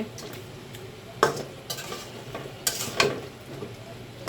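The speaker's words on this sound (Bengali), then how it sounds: "একটু নাড়া দিয়ে দিচ্ছি" A spoon stirs fish and potato curry in a pan just after salt goes in, giving a few sharp scrapes and knocks over a low simmering bed, with no talking.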